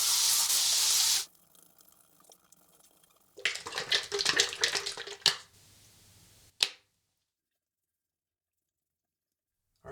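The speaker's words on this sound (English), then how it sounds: "wash off the alum with cold water" Cold tap water runs and splashes at a barbershop sink to rinse alum off a freshly shaved face, with a strong initial gush, a quieter pause, then bursts of splashing before silence.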